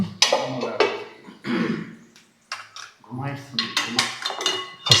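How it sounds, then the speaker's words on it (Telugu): A metal lid clanks onto a cooking pot, with a few close clinks and knocks of pots and utensils and a brief throat clearing between them. "ఒకసారి మూత పెట్టేద్దాం"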